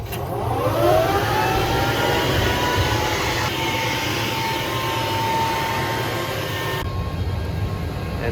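The metering wheel of a Morris Quantum seeder spins, driving seed and fertilizer out through the chain drive, a steady loud whirring drone with rising tonal whine that holds for several seconds before shifting abruptly near the end.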